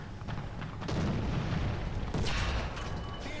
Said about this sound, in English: I do love the effect when I fire the cannons, though.